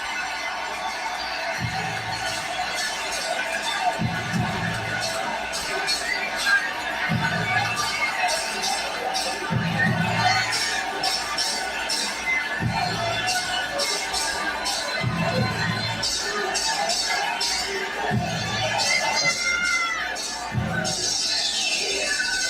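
A boxing arena crowd roars and cheers steadily during a Claressa Shields fight, a dense continuous wash of voices with a rhythmic low thumping underneath that swells and settles throughout.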